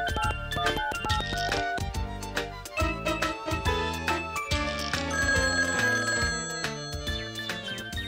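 A telephone bell rings repeatedly in quick, musical bursts, bright and close, continuing without pause in a Russian comedy show segment.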